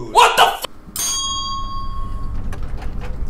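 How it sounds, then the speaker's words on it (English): A doorbell in the horror game Suite 776 rings once, sharp and loud, leaving a long ringing tone that fades, just after a brief loud exclamation from a voice. "All that is left to do is to ring her bell."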